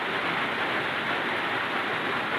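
Heavy rain pours steadily during a storm in a rural outdoor spot where frog hooks are being set, a dense continuous hiss with no pauses and no voices.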